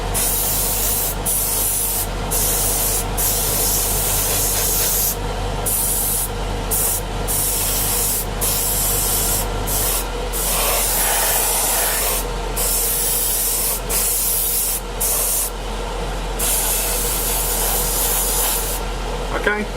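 An airbrush or spray can hisses out a light coat of paint over a model, a continuous close-up spray with brief pauses and short bursts, going on for about twenty seconds.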